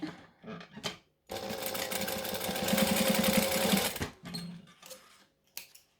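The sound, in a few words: sewing machine stitching fabric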